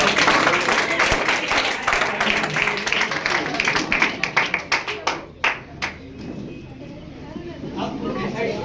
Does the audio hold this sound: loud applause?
yes